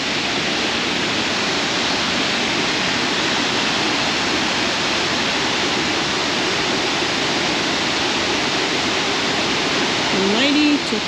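Tahquamenon Falls on the Tahquamenon River in a state park: a steady, broad roar of falling water fills the whole stretch without pause, loud and close.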